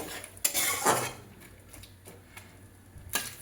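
Cauliflower stirred in a cooking pan, with a few distinct scraping clinks of a utensil against the pan at irregular moments, fairly close, amid quiet background and no talk.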